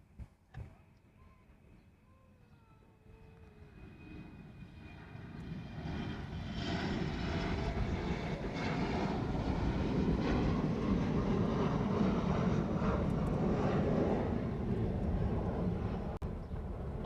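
An Airbus A380 airliner arriving at Honolulu airport rises from a distant rumble into a broad, sustained jet roar that grows louder and holds near its peak.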